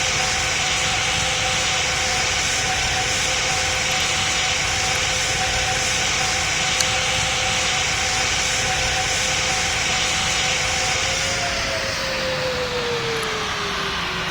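Emirates Boeing 777 landing in the PTFS flight game, a steady loud jet engine roar with a whining tone that slides lower near the end, continuous and close.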